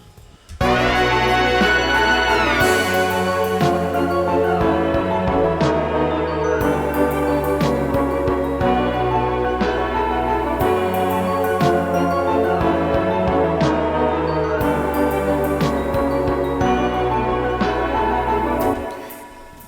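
Backing instruments from the break section of a waltz track play without the lead line and without hi-hats, a dense, loud, sustained arrangement with recurring sharp accents that stops near the end.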